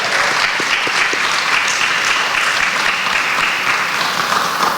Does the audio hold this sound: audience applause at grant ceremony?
yes